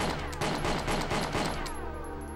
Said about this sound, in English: So, if I fire all 9 bullets